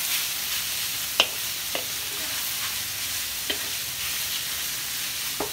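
Meat frying in a pan for pancit, a steady soft sizzle with a few sharp clicks of a utensil scraping and smashing against the pan, close and alone.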